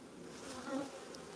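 Honey bees buzzing around a queen cell builder hive, a faint, steady hum with a slight swell in the middle as a bee passes near, no voices.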